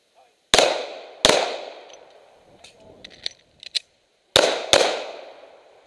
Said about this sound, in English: Now this is just two body shots while moving, two to one body, to the other